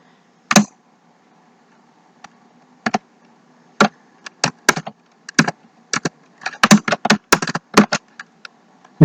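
Keys tapped on a computer keyboard to enter a search, heard as isolated sharp clicks at first and then a quicker irregular run of taps, close and fairly loud, with no voices.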